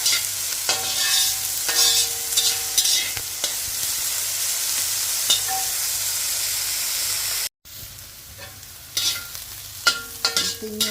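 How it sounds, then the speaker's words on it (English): Garlic, onions and ginger sizzle in a hot pan while being stirred, a loud, close frying hiss with scraping utensil strokes and a brief break partway through. "Continue cooking, sauteing the garlic, onions, and ginger until it is brownish."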